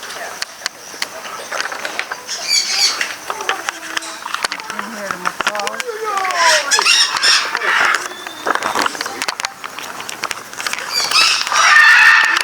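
A loud parakeet calls at a nature sanctuary, sharp squawks and chattering cries rising over outdoor ambience, with people talking nearby.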